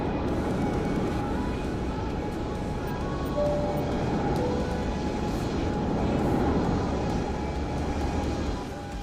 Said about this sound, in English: Where am I hearing this other plane at?